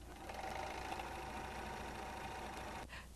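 Baby Lock Eclipse serger stitching a test sample, a steady, fast mechanical whir and rattle running continuously at low volume, then stopping abruptly near the end.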